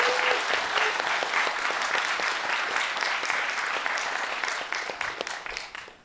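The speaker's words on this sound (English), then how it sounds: "could we give Vijay a round of applause" Sustained audience applause at a Bitcoin talk for speaker Vijay Boyapati, dense clapping that holds steady and then thins out and fades near the end.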